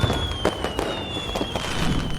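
Fireworks crackle and pop in quick irregular bursts at a moderate distance over Yeouido, Seoul, a steady stream of sharp little reports over a faint background hum.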